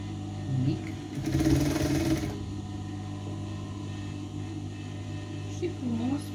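A sewing machine stitching a dress seam, running in a brief fast burst of rapid mechanical clatter amid a quiet workroom, while someone talks in Romanian at moments around it.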